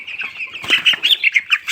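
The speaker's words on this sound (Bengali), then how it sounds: "যে কোনো একটা মুরগি আমি ধরে নেই।" A chicken being caught by hand flaps its wings in quick bursts of close, rhythmic fluttering, with a few squawks mixed in.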